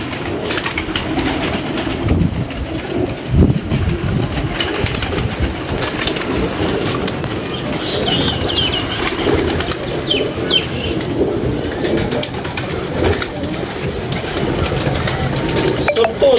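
Pigeons coo steadily in a loft with occasional bursts of wing flapping, close and continuous under a dense, noisy background.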